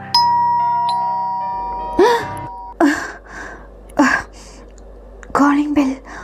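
A doorbell sound effect in a spoken horror story chimes with a sustained tone at the start, then gives way to sharp gasps and breathy, whispered voicing.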